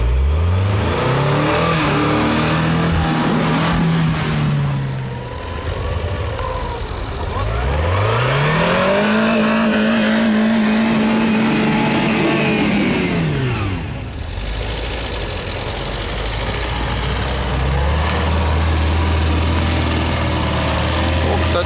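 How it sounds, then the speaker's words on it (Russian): UAZ Patriot engine revving hard while climbing an off-road slope in low-range first gear, with rising and falling pitch sweeps as the throttle is worked, loud and close, with a voice briefly over it. "Для начала по-прежнему первую пробую на первой пониженной."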